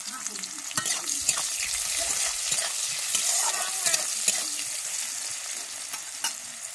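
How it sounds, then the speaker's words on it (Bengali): Onion frying in oil with black cumin crackles with a steady hiss, punctuated by intermittent spatula scrapes and clicks against the pan, close up with no talking. "এর মধ্যে আমি দিয়ে দিচ্ছি পেঁয়াজ।"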